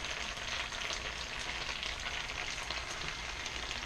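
Blackened fish sizzles in hot butter in a skillet with a soft, steady crackle that stays fairly quiet and close throughout, with no voices.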